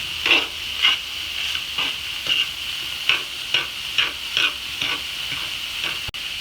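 Onions and peppers frying in a cast iron pan while a fork stirs them, a constant bright sizzle punctuated by regular scraping strokes roughly every half second.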